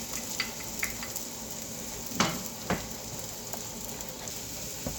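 Egg being stirred into ampalaya (bitter gourd) frying in a pan, with a steady sizzle throughout and a few sharp scraping clicks of the stirring utensil, fairly quiet and without talk.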